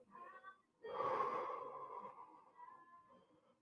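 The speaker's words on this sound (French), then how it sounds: "Respiration profonde." A deep, slow exhale during a stretching workout, a single breathy rush of air that swells and then fades, heard close and alone.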